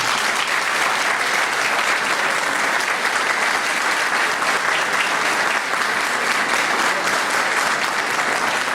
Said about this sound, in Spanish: es merecido brindarle nuevamente un fuerte aplauso